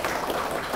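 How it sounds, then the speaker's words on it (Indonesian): Audience applause for the speakers at a campus talk, a dense, even burst of many hands clapping that fills the whole brief moment at steady loudness. "kita beri tepuk tangan kepada para narasumber kita"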